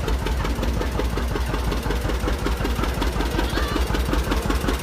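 A 1959 John Deere 630 tractor rolls along in a bean festival parade. Its engine runs with a steady, rapid chugging beat, loud and close throughout, with no talk over it.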